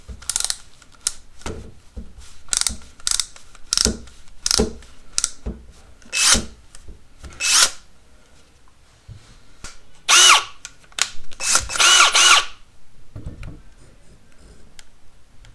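A Ryobi 18V brushless drill driver runs in drill mode at speed 1, firing a series of short, sharp whirring bursts close up, with a cluster of longer, louder runs near the end before falling quiet.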